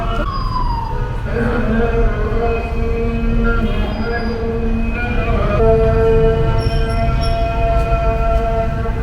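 A Cairo metro train rumbles steadily close by, with squealing wheel tones and sustained pitched whines throughout.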